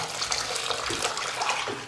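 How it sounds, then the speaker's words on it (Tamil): Dal cooking water pours steadily into a pot of sambar for a couple of seconds, a continuous splashing gush with no speech. "பருப்பு வேக வச்ச தண்ணியை இதில் சேர்த்துக்கலாம்."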